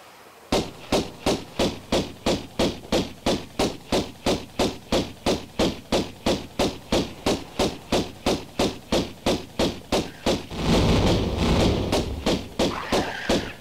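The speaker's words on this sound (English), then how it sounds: "Now we will shoot them from above." Gunfire in the 1996 Tomb Raider video game as mummies are shot from above in the Obelisk of Khamoon level, a long run of evenly spaced, punchy shots repeating steadily about twice a second, with a brief dense burst near the end.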